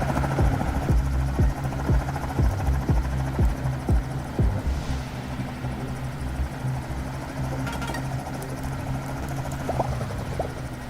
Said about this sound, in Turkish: Çağır helikopter ve oraya gidiyor.